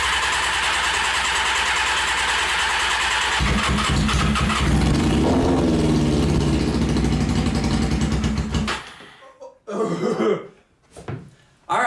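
A Honda CBR600 motorcycle engine cranks and fires up on starter fluid, running loudly and roughly for several seconds before dying. Sputters and brief revs follow, with no talk over it.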